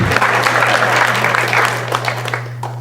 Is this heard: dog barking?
no